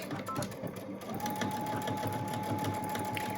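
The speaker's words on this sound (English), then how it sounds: "we're going to sew very close to the edge, about 1/8 inch away from the entire outside edge" A sewing machine runs continuously, stitching close along the edge of a surgical mask with a rapid, even mechanical chatter, close and moderately loud, and a faint voice underneath.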